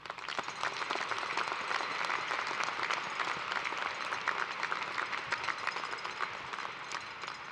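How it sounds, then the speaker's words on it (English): Steady applause fills a large hall at a university commencement ceremony, many hands clapping continuously and evenly from a sizable seated crowd, moderately distant, with no talk over it. "Please join me in applause to acknowledge the scholastic achievement of all of these students."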